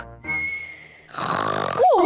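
Cartoon pig Uncle Pig snores in a voiced imitation: a whistling exhale tone, then a rattling, buzzing snort rising to a loud wobbly grunt, all within two seconds.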